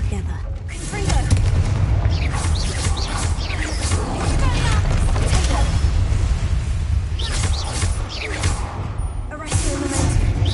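Explosive Confringo spell blasts in a wizarding video game fight near a troll, loud booming bursts over a dense battle din, with a voice talking over them.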